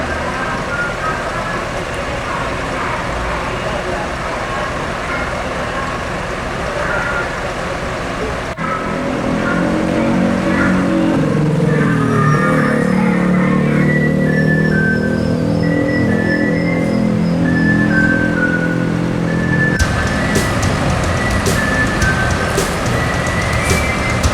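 A large diesel bus engine idles and then revs as the bus moves off out of Terminal Baru Solok, with a few beeps and horn-like tones over the rumble.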